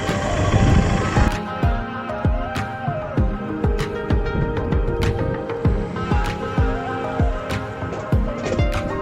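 A Honda CBF150 road motorcycle rides off-road through a forest, its engine loud and close, revving up and dropping back again and again in a rapid, uneven rhythm.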